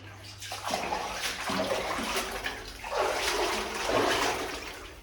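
Water running and trickling inside an old silver and lead mine, a steady broadband wash that swells and fades in the enclosed space, with a low hum present at the start.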